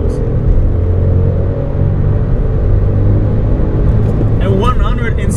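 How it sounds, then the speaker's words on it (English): An Audi A1 1.0 TFSI 95 hp Sportback S-Line accelerates at full throttle in second gear during a 0-100 km/h run, giving a steady, close engine drone that rumbles throughout with a brief voice-like sound near the end. "But in this car you can just give full throttle in second gear."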